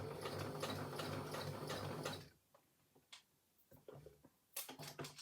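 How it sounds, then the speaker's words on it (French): Sewing machine doing free-motion quilting on felt, a fast dense whirring stitch run for about two seconds, then stopping to sparse clicks and light handling before a short burst resumes. "Je commence toujours avec l'aiguille enfoncée et je vais commencer à coudre."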